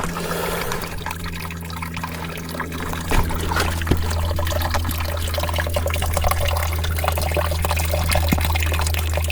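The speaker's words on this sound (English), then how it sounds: "I hear water flow." A small one-foot waterfall on rural off-grid land, water flowing and trickling steadily nearby with a constant low rush and occasional splashy spikes, no talking.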